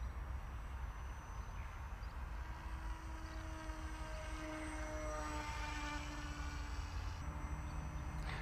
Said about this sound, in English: This would be a great little cruisy FPV plane, I think.